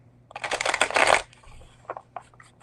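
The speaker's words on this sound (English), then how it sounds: "Shuffling there" Playing cards riffled and shuffled close by in a bursty run that peaks and then trails off into a few lighter card taps and slides.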